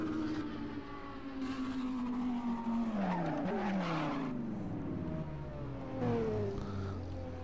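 A BMW Z4 E89 driving by, the engine note rising and then falling in pitch as it passes, with tire noise and other racing engine sounds in the background of a game.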